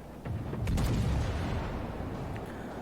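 Naval gunfire in the World of Warships video game, a dense rumbling barrage of distant shell booms that swells after a brief pause and rolls on steadily, with scattered sharper cracks on top.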